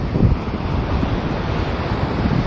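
Sea waves break and rush steadily along the shore at Kuakata beach in Bangladesh, with wind gusting across the microphone in a continuous, close roar.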